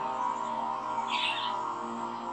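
Outdoor birds let out a brief burst of high chirping, fairly faint, over a steady droning background hum with no speech. The chirps drift in from outside a room where a Jurassic World mobile game session is being recorded.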